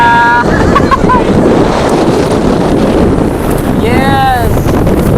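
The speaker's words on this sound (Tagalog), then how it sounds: "Medyo malakas na yung hangin. It's a bit windy na" Strong wind at sea off Boracay Island buffets the microphone over rushing water and waves, with brief whistle-like tones and faint voices in the background.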